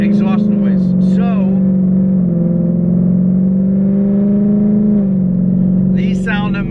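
A deep, steady Ford Mustang exhaust with resonators and a Corsa exhaust system drones low and loud throughout, with a person talking over it at the start and end.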